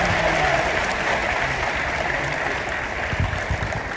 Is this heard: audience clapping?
yes